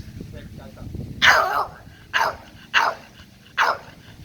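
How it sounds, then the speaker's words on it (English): A French Bulldog barks four times close by, sharp separate barks spaced about a second apart over low background noise. "I'm going to get this dog to bark."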